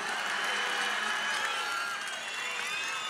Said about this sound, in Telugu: సూపర్ స్టార్ రజనీకాంత్ గారిని గట్టిగా చప్పట్లు కొట్టి అభినందించి